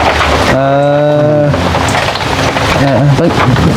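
Rain falls steadily in a dense, loud wash through a rural forest setting, with a voice and another tonal voice briefly heard over the downpour.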